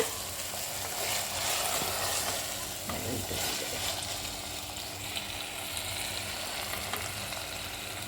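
Vegetables for vegetable biryani sizzle steadily in hot oil with a constant crackling hiss, while occasional scraping from stirring shows through at close range.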